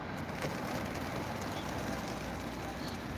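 Soft pigeon cooing and bird sounds beside a road over a steady, noisy outdoor background, faint and continuous throughout.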